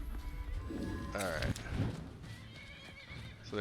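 Horses in a video game whinny loudly and clatter their hooves, with a sharp neigh near the middle over rapid clip-clopping and a busy game soundscape, while someone talks over it.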